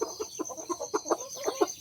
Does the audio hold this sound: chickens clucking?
yes